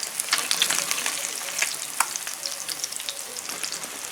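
Fresh lake fish fries in peanut oil, a dense, close crackling sizzle with sharp pops and spits over a constant hiss, with no voices.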